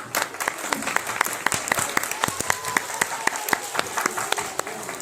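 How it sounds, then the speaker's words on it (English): Clapping for student performers at a school assembly, sparse distinct hand claps from a small group in a steady uneven rhythm, fairly close, with faint voices underneath. "And I and Amrita ma'am are clapping for them"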